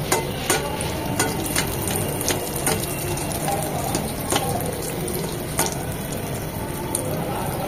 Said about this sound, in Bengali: এভাবে চারপাশ থেকে তেলটা দিলে খুব সুন্দরভাবে ফুলে ওঠে।